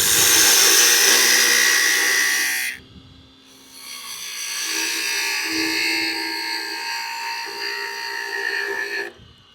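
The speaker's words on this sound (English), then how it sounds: "I use the skew mainly just to smooth everything up. I want to cut this down a little bit more." A skew chisel cuts a wooden Easter egg spinning on a lathe, giving a bright, hissing scrape that breaks off briefly near the middle, then resumes slightly softer until stopping.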